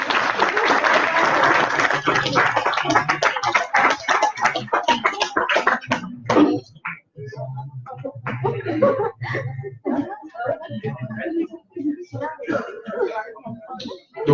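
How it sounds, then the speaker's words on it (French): Close, dense applause from the audience at a graduation ceremony for diploma recipients, loud for the first six seconds, then fading into scattered claps, chuckles and laughter with people talking. "Je crois qu'on peut les applaudir"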